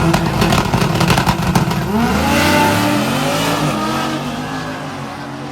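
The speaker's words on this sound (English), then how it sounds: "It has the Hurricane swapped 6-cylinder engine." Drag car fitted with a swapped Hurricane six-cylinder engine running a single precision turbo, heard at a dragway as a loud, close engine that revs hard and then settles into a sustained, pitch-shifting drone.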